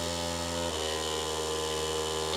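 A loud AIO liquid cooler pump runs with heavy vibration, giving off a steady, close droning hum with a constant buzzing tone and no pauses.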